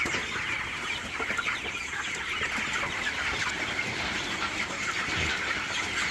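A flock of chickens clucks while drinking fresh water in hot weather, a constant dense chatter with no breaks.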